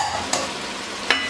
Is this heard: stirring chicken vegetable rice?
yes